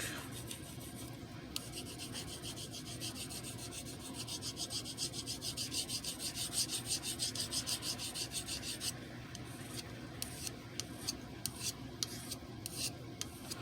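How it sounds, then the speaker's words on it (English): A knife tip is spot sharpened on a Fuji whetstone with a continuous, quick scrubbing rasp, close and steady, shifting to lighter, choppier strokes in the last few seconds. "take the Fuji real quick and spot sharpen on the tip real quick."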